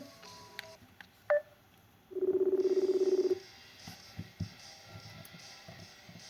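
Telephone dialing tones in a Roblox Five Nights at Freddy's fan game: a quick beep, then a steady burst of rapid dial pulses lasting about a second, over faint background noise.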